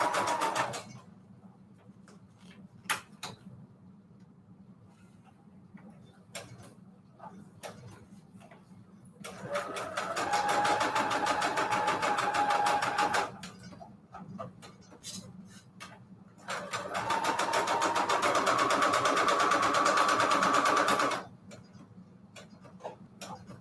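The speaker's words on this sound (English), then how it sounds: "I'm going to sew all the way around" A sewing machine stitches around the edge of a paper envelope page for a junk journal, running in two long steady bursts of whirring, rapid needle clatter separated by quiet pauses with light handling clicks.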